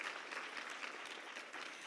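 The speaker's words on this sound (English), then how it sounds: "Yes, clap it up for him" Audience clapping for Dr. Anthony Fletcher at the Arkansas Minority Health Summit, a dense, even patter of applause from a roomful of people, faint and distant, with no talk.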